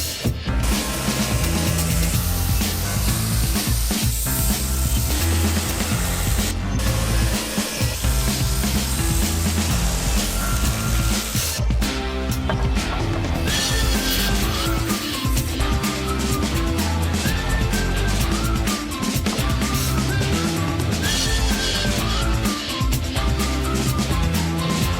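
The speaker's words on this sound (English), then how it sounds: "We're gonna go ahead and grind it off and smooth out these jaws." A grinder working set JB Weld epoxy off the jaws of an old Prentiss No. 22 bench vise, giving a loud, continuous abrasive roar that runs steadily with only brief dips.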